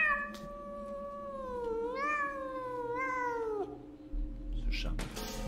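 A long, drawn-out cat meow with rising and falling pitch from the video game Pathologic 2, heard loud and clear, followed by game noise at the end.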